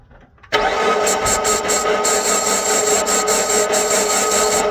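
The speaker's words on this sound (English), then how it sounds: "I'm gonna crank the engine over so you can hear what I'm talking about" The failed engine of a 2007 Mitsubishi Eclipse cranks over with no compression, starting abruptly and running as a steady loud, even whirring drone with faint rhythmic pulses and no firing.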